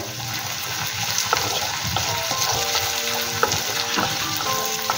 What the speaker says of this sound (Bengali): এরপর আমি দিয়ে দিচ্ছি আদা রসুন পেস্ট 1 চামচ। ভালো করে নেড়ে চেড়ে নেব।